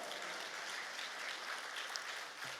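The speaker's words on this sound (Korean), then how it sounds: "우리 하나님께 영광의 박수를 드립니다" A church congregation claps together in a dense, even burst of applause that fills the whole moment without pause.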